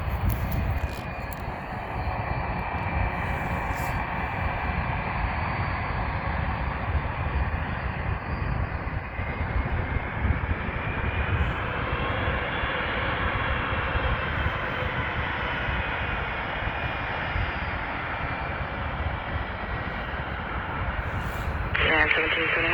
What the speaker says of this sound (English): But it's taking off that side now.